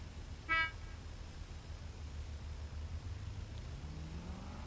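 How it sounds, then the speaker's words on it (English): A single short car horn honk from a drift car at the start line of a drifting battle, heard at moderate distance over the low rumble of idling engines, followed by an engine revving up. "Oh, I heard one horn."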